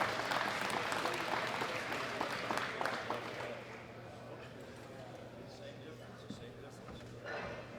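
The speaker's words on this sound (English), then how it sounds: "A big round of applause for Yota Sadowski." Applause from the crowd at a powerlifting world championship medal ceremony, fairly loud at first, then fading to a quieter, sparser patter after a few seconds in a large hall.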